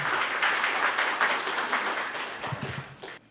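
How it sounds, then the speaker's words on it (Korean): An audience at a Buddhist spring service in the National Assembly breaks into applause to welcome a speaker, a dense wash of clapping that gradually thins out and fades toward the end. "큰 박수로 맞아주시기 바랍니다."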